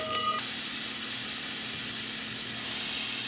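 Burgers searing in a pan of butter and avocado oil, a steady broadband hiss of frying with a brief crackle at the start, close and continuous, no talk.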